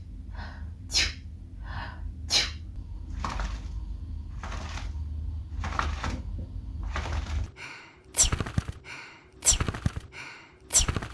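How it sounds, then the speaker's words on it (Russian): Sneezes for a cat character in a pet clinic video game come one after another in a steady series of short, sharp bursts, each with a breathy intake before, close and clear with no talk. "для своих животных, у которых есть температура, я внедрил чихание"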